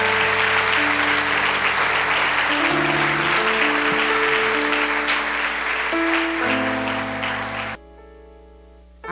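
Applause from a church congregation at a family worship service, a dense steady patter of many hands under sustained music tones that cuts off near the end, leaving the tones ringing alone.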